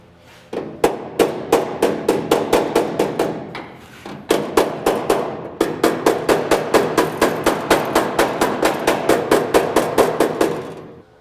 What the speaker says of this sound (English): I got to do some hammer into it and get it in nice and tight